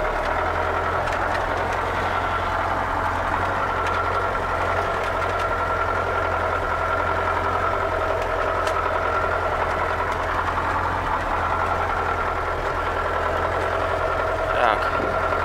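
A ZIL Bychok truck's engine idles in a field during hay hauling, a steady low rumble holding throughout at moderate level, with no one talking over it.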